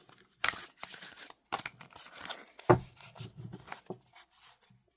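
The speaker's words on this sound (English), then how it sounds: "let me give you the shuffle" Thick, smooth tarot cards are shuffled overhand in quick, uneven riffling and sliding bursts, close and dry, with short pauses between handfuls and no talking.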